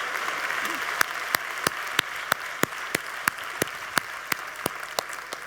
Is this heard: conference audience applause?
yes